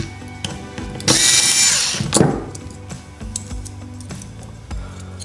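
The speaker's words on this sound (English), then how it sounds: "to take apart a blade, you take out these two screws." Screws are being backed out of a dog clipper blade: a loud, whirring burst from a power driver lasts about a second, followed by small clicks and metallic rattles at close range.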